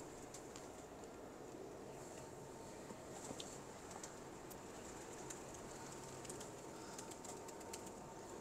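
Pigeons coo faintly and steadily in a backyard loft, with soft overlapping calls and occasional wing flutters against a constant low hum of background noise.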